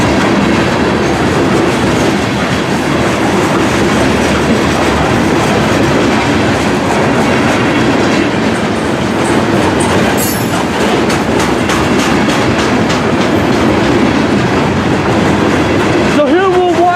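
A long freight train of about 90 cars rolls past close by, a loud, steady roar with rapid rhythmic clatter of wheels over rail joints that continues without a break throughout.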